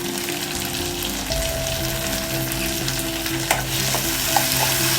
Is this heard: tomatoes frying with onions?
yes